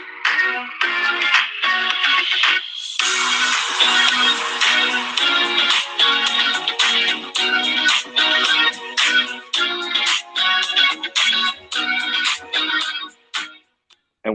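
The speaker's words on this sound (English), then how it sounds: "this is the intro music I've got going at the moment, so I'm going to play it through my phone" Upbeat podcast intro music played back through a phone speaker, bright and steady with a driving rhythm, running loud and unbroken before cutting off near the end.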